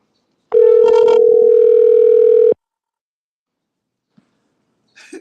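A phone call rings out with one steady ringback tone lasting about two seconds, loud and close, followed by silence and a faint click near the end. No one speaks.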